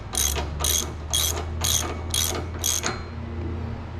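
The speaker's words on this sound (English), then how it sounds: "get your socket, and you can drive it down until you get access to the cotter pin opening" A socket wrench with a 36mm socket ratchets down a nut on a swing-out spare tire carrier for a Polaris RZR Pro. Six quick, crisp clicking bursts come in an even rhythm, close and clear, then stop.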